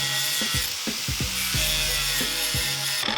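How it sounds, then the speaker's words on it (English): An angle grinder grinds down the top of a MIG weld bead on a Sierra Sapphire Cosworth body panel, a steady continuous high-pitched whine with repeated brief dips in load as the disc bites, close and loud throughout. "Grinding off the top of the weld"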